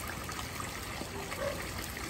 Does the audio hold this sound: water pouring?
yes